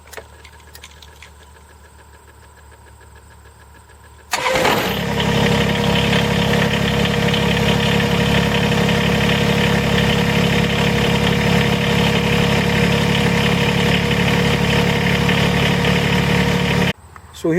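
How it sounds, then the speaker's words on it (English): A Kubota BX2380 compact tractor engine cranks and catches after a quiet stretch, then settles into a loud, steady diesel idle with a constant throbbing hum before cutting off at the end. "Now we're going to start up the 2380."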